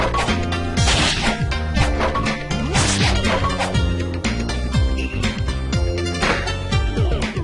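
Punchy hits and thwacks from a character attacking in Ragnarok Battle Offline, a fighting game, land in quick succession over loud, dense game music, with no talking.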